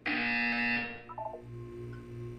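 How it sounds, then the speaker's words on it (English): A harsh electronic buzzer blares for about a second in Portal 2, then gives way to blippy tones and a low pulsing hum. "You will hear a buzzer."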